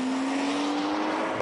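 A 2012 Audi A7 or 2012 BMW 640i Gran Coupe driven hard through corners with traction control off, engine roaring at a steady high pitch with a sustained tonal whine, loud and close for a brief burst.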